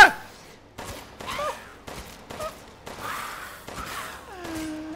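Gunfire in the video game Resident Evil Village: a string of six or seven sharp, loud shots in uneven succession, with game effects ringing between them.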